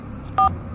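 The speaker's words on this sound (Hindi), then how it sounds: "पंडित को फोन लगाता हूँ।" A single short two-tone phone dialing beep, sounding once briefly and fairly loud over a low room hum.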